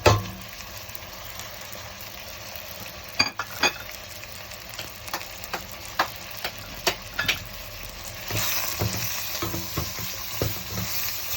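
Chicken drumsticks sizzle in hot oil with spices for kabsa, a steady crackling fry punctuated by sharp clacks and scrapes of a utensil stirring the pan.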